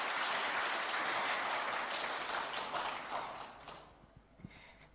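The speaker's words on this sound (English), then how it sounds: "Let's applaud our minister." A crowd of officers applauds the finance deputy minister at an International Customs Day event, dense steady clapping that fades toward the end.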